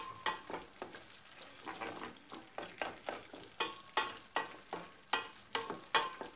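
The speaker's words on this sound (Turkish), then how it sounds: "Baharatlarımızı ilave ettikten sonra 1-2 dakika bu şekilde karıştıralım" Spices and vegetables for menemen fry in a pan while a utensil stirs them in a steady series of scraping strokes over a soft, continuous sizzle, close and alone with no talk.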